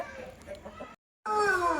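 A pearl cross hen clucks at a busy rural market, a few short clucks and cackles against crowd murmur, then a brief pause before louder, strained calls resume close to the microphone.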